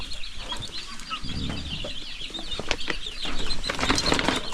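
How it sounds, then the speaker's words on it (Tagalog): Chickens cluck close by, with a rooster-like call and a burst of wing flapping, busy farmyard sounds with no talking. "Yan po yung manok natin"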